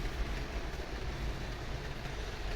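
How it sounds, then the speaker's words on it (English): A steady low rumble of an HO scale model train, with a steam locomotive and a diesel, running along its track, continuous and fairly quiet, with no voices. "Let's see if we can get the train moving for once."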